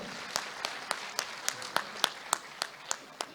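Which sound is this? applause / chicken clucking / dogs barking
applause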